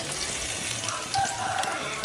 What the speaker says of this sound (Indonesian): Ini mau kita goreng, cara goreng juga sama seperti tadi, nggak usah terlalu dibolak-balik, cukup 2 kali balik aja.